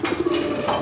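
A khaki pigeon gives a short, close, throaty coo, a few quick pulsing notes running together in under a second, with no voices over it.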